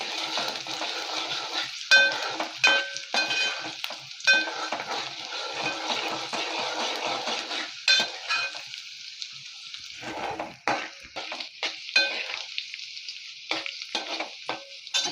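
Onions sauté in oil in a pan for a mutton tambda rassa, giving a loud close sizzle broken by frequent metallic spoon scrapes and clanks against the pan, with a few brief pauses.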